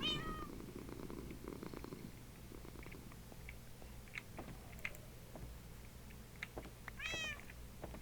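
A Minecraft cat meows a few times, short faint calls spread across a quiet stretch over low steady background noise, with no one talking.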